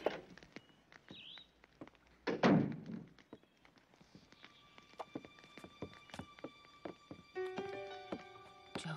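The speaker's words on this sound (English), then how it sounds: "Don Carlos, don't bang your plate." A plate banged down on a table in a family kitchen scene with dishes, heard as a few loud close thunks and clatters among scattered dish and table knocks.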